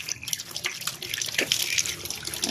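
Tap water runs and drips while someone washes at an outdoor faucet, a steady splashing trickle with scattered drips throughout.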